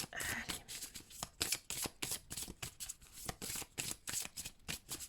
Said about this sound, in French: Alors, on va tirer une petite carte.